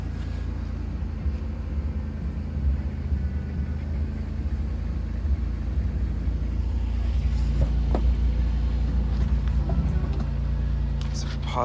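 The engine of a 2005 Chrysler Town and Country Limited running with the hood open, a low steady idle hum with a few faint clicks and a brief voice over it.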